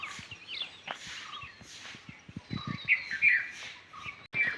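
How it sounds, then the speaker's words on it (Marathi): Scattered bird chirps and tweets, moderately near, mixed with soft thuds and rustling like footsteps. "पक्ष्यांचा आवाज बघा किलबिलाट"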